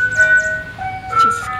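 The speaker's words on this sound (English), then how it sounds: "The ice cream truck comes here." An ice cream truck's chiming jingle plays nearby, a bright melodic tune of sustained tones carrying over low traffic rumble for a moment as it passes.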